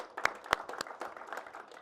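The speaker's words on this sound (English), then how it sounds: "Give it a big clap." A few sharp hand claps followed by light, scattered audience clapping at a live football event, fairly faint and brief.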